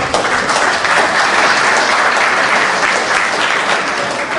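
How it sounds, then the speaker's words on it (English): An audience at a live event applauds police officers in the room, producing a dense, steady wash of clapping that stays fairly even and continuous throughout the few seconds. "Why y'all clapping so soft for them?"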